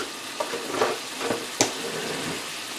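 Meat for haystacks browns in a hot pan, a steady close sizzle with a few scraping stirs and soft clicks of a utensil.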